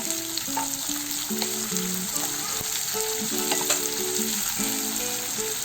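Onion pieces and dried red chillies frying in hot oil for raw papaya curry, a steady close sizzle with occasional stirring scrapes and pops, with music playing over it.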